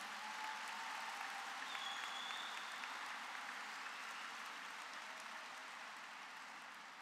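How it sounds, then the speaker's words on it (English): A large audience at a high school graduation ceremony applauds the school board and guests, a broad, even roar of many hands clapping from a distance that holds steady and eases slightly at the end. "Let's give a round of applause for our school board and esteemed guests"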